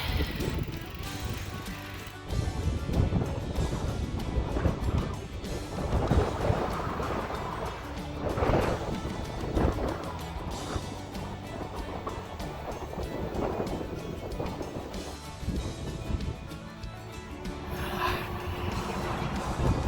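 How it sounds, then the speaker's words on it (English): Strong headwind buffeting a rider on a gravel e-bike during the Porcupine Loop ride, a continuous loud roaring rush of wind that swells and gusts throughout, with no talk. "Whew, holy wind."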